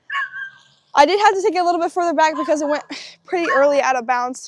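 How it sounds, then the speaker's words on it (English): Dogs bark and whine nearby on a disc golf course, partly buried beneath steady close-up talking that runs through most of the stretch. "The dogs are pretty noisy around here."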